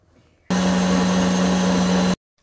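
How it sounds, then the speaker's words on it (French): An electric mixer beats cake batter with icing sugar and vanilla for a raspberry Yule log, starting abruptly after a brief quiet, running as a loud steady whir for under two seconds, then cutting off. "vous allez mélanger à l'aide de votre robot ou à l'aide de votre batteur"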